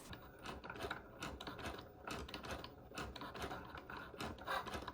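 A Cricut Joy cutting machine draws with a pen, giving a faint, steady mechanical whir and rubbing with small clicks from the moving carriage, quiet and continuous.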